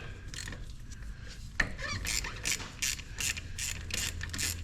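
Wrench loosening the front differential drain plug on a 2021 Polaris General XP: soft, close ratcheting clicks and scraping metal in a rapid, uneven series, with no voices.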